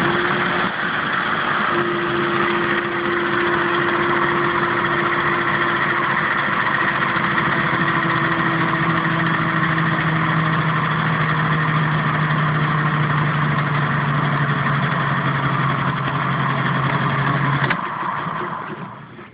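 An electric motor spinning a generator through a changed pulley arrangement, a loud steady whirring hum with rising tonal whine as it speeds up, continuous and close, ending in a brief shift near the end.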